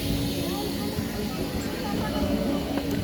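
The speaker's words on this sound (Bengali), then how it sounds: "ট্রেনটি কিন্তু এই মুহূর্তে পলতা স্টেশন থেকে ছাড়বে" A local train on the Krishnanagar to Sealdah line departs Palta station, a continuous low rumble and hum of the moving carriages with steady rail noise and no distinct horn.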